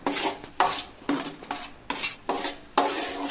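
Carrot payasam mixture stirred in a pan over low flame, a rhythmic sequence of about seven close, gritty scraping strokes with brief pauses between them, no voices.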